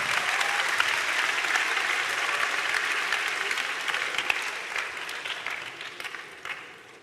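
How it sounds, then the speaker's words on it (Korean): Church summer camp audience in Korea applauding during an evening service, a sustained burst of many people clapping together, loud and dense at first and gradually thinning and fading toward the end. "박수는 크게 칩시다."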